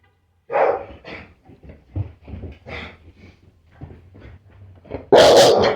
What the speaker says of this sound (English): The dog is probably going to start barking